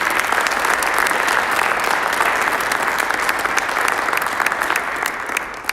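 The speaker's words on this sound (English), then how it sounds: "Let's give them a final round of applause for all they've done for our team." A crowd at a high school athletics signing ceremony applauds steadily, dense clapping holding at an even level before tapering slightly near the end.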